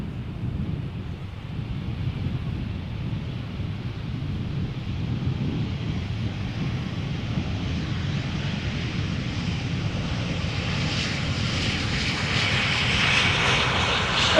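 Aircraft engine roar at Amsterdam Schiphol Airport, a steady loud rumble with broadband hiss that swells toward the end as the jet passes close, buffeted by wind on the microphone.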